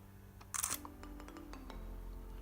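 A Canon PowerShot SX540HS compact camera fires with a long shutter press and the flash popped up, giving one bright, close mechanical click-and-whir burst before a quiet hum returns, with no one speaking.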